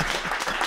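A group of people at a live reaction stream applauds in a short burst of loud, dense clapping, with rowdy voices mixed in.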